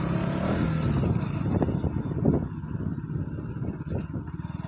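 A motorcycle easing slowly over a speed bump, its low engine rumble steady and close before softening into a pulsing, throbbing idle toward the end, with no talking.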